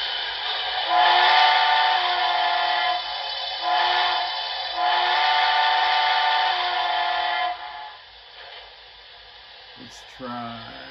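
Steam whistle from an HO scale Broadway Limited model locomotive sound decoder, several chime blasts of varying length, a long central wail, then a fading tail and a brief click.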